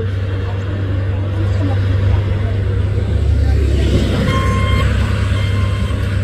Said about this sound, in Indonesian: 2 unit truk mau menanjak, ada Puso dan Hino